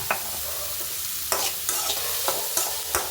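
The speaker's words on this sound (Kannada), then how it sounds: "ಈರುಳ್ಳಿ ಎಲ್ಲ ಚೆನ್ನಾಗಿ ಕೆಂಪಗಾಗಲಿ ಈರುಳ್ಳಿ ಎಲ್ಲ ಫ್ರೈ ಆಗಿದೆ" Onions frying in oil in a pan with a steady sizzle, while a spoon scrapes and stirs them in several sharp, evenly spaced strokes, close and clear.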